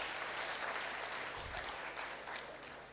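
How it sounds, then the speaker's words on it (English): Conference audience at a national elections meeting applauding a speaker, a dense, continuous wash of clapping from a large crowd that tapers slightly toward the end, with a brief low thump midway. "Let's clap for Elizabeth Moragan."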